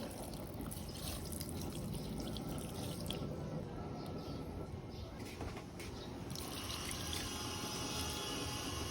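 A cup of water poured into a cooking pot while making sinaing na tulingan, a Filipino braised tuna dish seasoned with vinegar and chilies, giving a steady close splashing stream throughout.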